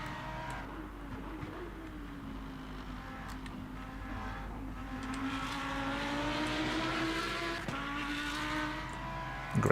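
A steady, high-pitched Lamborghini race car engine in the game Le Mans Ultimate, at Sebring, drones continuously, its pitch slowly rising and holding as it accelerates, loud and close throughout.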